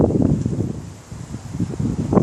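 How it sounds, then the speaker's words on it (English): A strong wind gust from a passing thunderstorm in Corpus Christi, Texas, buffets and rustles close by in uneven surges, easing briefly midway before building again, with no voices. "Trying to talk before another gust comes in"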